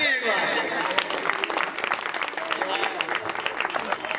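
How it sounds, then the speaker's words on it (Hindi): Applause from an audience at a Hindi comedy poetry recital, a dense continuous patter of clapping that holds steady throughout. "ताली एक बार।"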